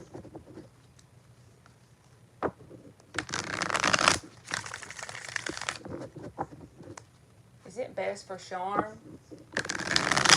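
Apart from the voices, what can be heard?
shuffling tarot cards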